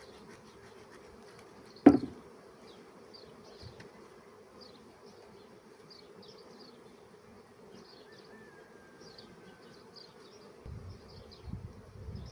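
Honeybees around an open beehive while the second hive body is being expanded give a faint, steady low hum. A sharp knock sounds near the start and a low rumble near the end; no one speaks.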